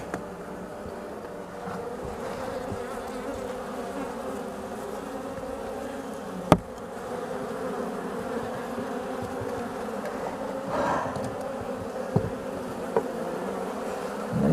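Honeybees buzz steadily and fairly close at a hive, a continuous droning hum with a few faint knocks and clicks, no voices.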